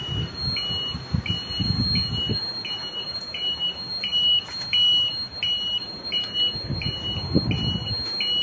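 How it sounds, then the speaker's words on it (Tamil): An electric loader vehicle's turn indicator buzzer beeps in regular, evenly spaced ticks over a low background rumble, with no voices. "இது இண்டிகேட்டர்."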